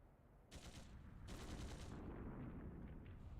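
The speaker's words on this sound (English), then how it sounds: "Oh, gunfire" Two bursts of rapid gunfire in the video game Trails Through Daybreak II, then a steady rumbling barrage that carries on to the end.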